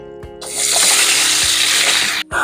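Water pours into a pan of frying tomatoes cooked in mustard oil with salt and turmeric, a sudden loud hissing splash that sizzles on steadily for about two seconds before cutting off.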